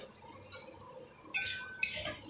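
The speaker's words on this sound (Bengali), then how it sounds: "ভালো করে মশলার সাথে মিশিয়ে দিলাম" A spoon stirs powdered spices (turmeric, chili, cumin and salt) into a tomato masala in a pan, giving two sharp metallic scrapes over a soft, quiet stirring background, with no talking.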